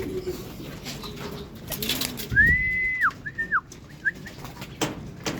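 Racing pigeons at a loft, with soft coos and bird calls alongside a few clear whistled notes and some light rustling nearby.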